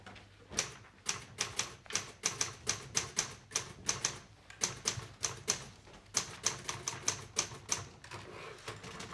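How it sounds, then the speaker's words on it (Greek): A mechanical typewriter is struck hard in a fast, uneven run of sharp, loud clacks, with short pauses between bursts, close by in a quiet indoor room. "Συγγνώμη, κύριε Σωτηρόπουλε, γιατί βαράτε τόσο δυνατά τη γραφομηχανή?"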